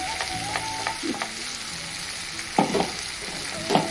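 A coconut, green chili, ginger-garlic and coriander paste sizzles and fries in a cooking curry, with a steady close crackle and a few louder stirring scrapes.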